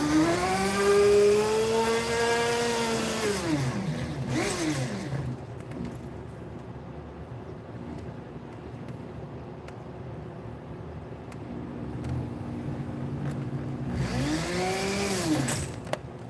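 A power tool cuts into a diecast toy car, loud at first with a rising and falling whine, then a long stretch of steady grinding, and the pitch swoops back up near the end.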